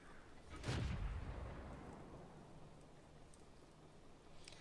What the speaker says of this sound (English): I'm going to fire a few blind shots into the bushes at random